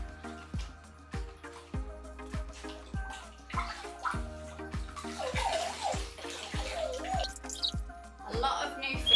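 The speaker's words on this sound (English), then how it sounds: "all you do is basically rinse it out in the tank" Water sloshes and splashes as an Eheim canister filter is rinsed and squeezed in aquarium tank water, with dripping and a regular rhythmic pulse underneath, while a person talks over it.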